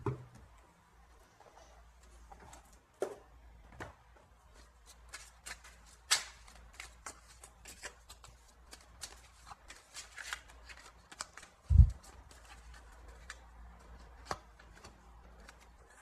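Oracle cards shuffled by hand in a quiet room, a long run of soft riffling and patting with sharper snaps scattered throughout and one heavier thump near the end.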